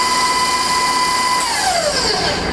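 An electric mixer runs steadily while slowly stirring cake batter for a Fourth of July cake, a loud continuous whine with the motor pitch dropping toward the end, with no voices.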